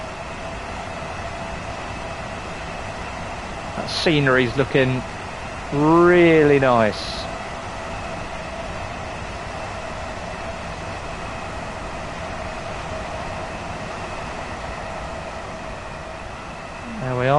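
A Class 377 electric train in Train Sim World 5, running from Littlehampton to Victoria, gives a steady, even cab hum and rumble throughout, while someone speaks briefly over it partway through.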